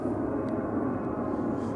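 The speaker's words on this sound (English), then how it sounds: "Because we have another airplane. This time Ryanair is the culprit." A Ryanair airliner passes overhead in North Dublin, a steady, moderately distant roar of jet engines that holds evenly throughout, with no voices.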